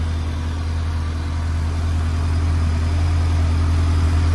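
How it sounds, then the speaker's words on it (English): A Honda Civic EM1 engine idles close by, a loud steady low hum with a constant drone and no change in rhythm throughout. "Super happy my car's back up and running."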